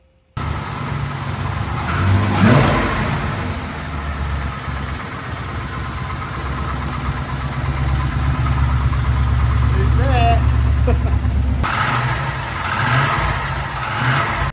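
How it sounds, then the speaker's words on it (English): A noisy LS1 V8 engine in a one-tonner runs nearby with a loose, ticking piston slap under its rough idle, rising briefly in a rev before settling. "But the motor is quite noisy, as I'll show you right now."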